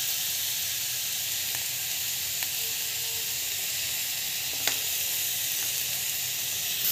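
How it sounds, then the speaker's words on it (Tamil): Semolina sizzles steadily in a hot pan as it is sautéed with asafoetida and rock salt, a continuous loud frying hiss with a few faint clicks of the spoon and no voices. "ரவை வந்து நல்லா வதங்கணும்."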